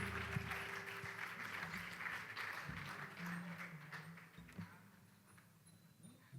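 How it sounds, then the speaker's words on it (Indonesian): Audience applause at the opening ceremony of the Singaraja Literary Festival 2024, a fairly faint, steady wash of clapping from a crowd heard throughout, with some background noise. "Kita berikan tepuk tangan yang meriah, luar biasa."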